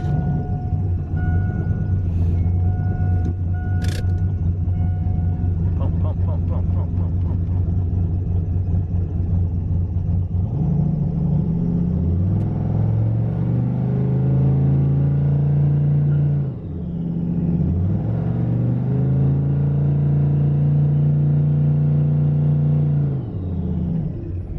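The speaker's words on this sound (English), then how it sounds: "I gotta test that real quick to see if I can build any boost on the foot brake" A turbocharged street car engine revs hard against the foot brake to build boost, its deep rumble rising and falling through several sustained pulls, loud and close with no talking.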